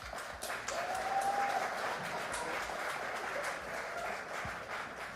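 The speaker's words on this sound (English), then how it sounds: "Can we please give them a round of applause?" An audience at a live interview event gives a round of applause, heard as a soft, steady wash of clapping somewhat distant and quiet, holding evenly for several seconds.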